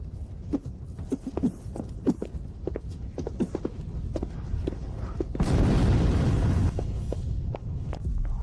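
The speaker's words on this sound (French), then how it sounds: "Tu n'avais pas peur de l'explosion?" A car explodes with a sudden loud roaring blast that lasts a couple of seconds after a run of scattered thuds and footsteps.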